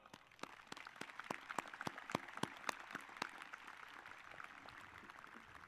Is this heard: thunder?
no